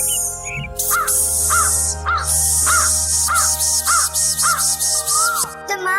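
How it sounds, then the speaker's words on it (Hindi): A cartoon crow in a Hindi animated bird story gives a steady run of about eight sharp caws, evenly spaced and close, over a soft background hum. "गोरी कौवी ने अंडों को छुपाने के लिए उनके ऊपर हरे भरे पत्ते रख दिए"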